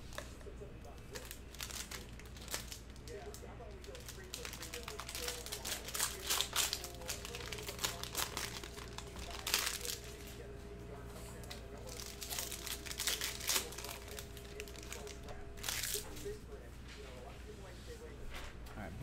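Someone tears open a cello pack of 2020 Panini Prizm football cards with close, crinkly plastic rustling and ripping in uneven bursts. A voice speaks quietly in the background.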